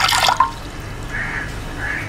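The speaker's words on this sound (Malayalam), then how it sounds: "നമ്മൾ ഇതിലേക്ക് കുറച്ച് വെള്ളം ഒഴിച്ചു കൊടുക്കുന്നുണ്ട്." Water poured into a cooking pan for clams in a shellfish roast, heard as a short splashing burst at the start that settles into faint, thin trickling.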